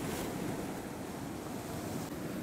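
Ocean waves wash around a rock on the shore, a continuous loud rushing surge with wind buffeting the microphone.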